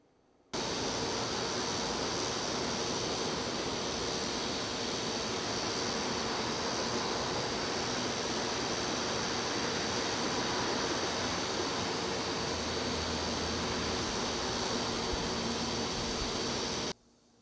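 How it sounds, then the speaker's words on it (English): An indoor refrigerator runs in the background as a steady, even hiss-like hum. It starts and stops abruptly, and no voices are heard over it. "I'll be quiet for a little bit just so you can hear the fridge in the background."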